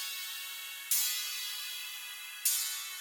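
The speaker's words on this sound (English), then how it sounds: "And then I layer it with this polysynth preset from" A polysynth preset from X-Band, heavily EQ'd toward bright high end, plays two soft airy chord stabs about one and a half seconds apart. Each one fades gently and the sound stays quiet throughout.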